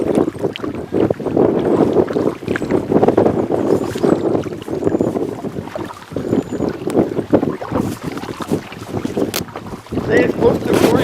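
Wind buffets a river boat on the South Saskatchewan River, a loud continuous rumbling roar against the microphone with gusty swells and faint water sounds, close and steady throughout.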